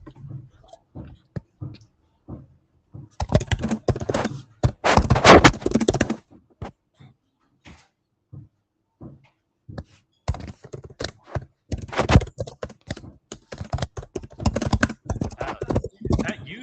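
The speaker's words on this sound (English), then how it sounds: "I think we need to raise a fund to replace John's mechanical keyboard" Fingers clatter on a mechanical computer keyboard in dense bursts of rapid key clicks, some stretches louder and closer, with quiet gaps between during an online meeting.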